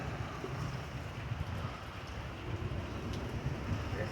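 Heavy rain and gusting wind during a lightning storm make a dense, steady roar of broadband hiss, loud and unbroken, with no voices over it.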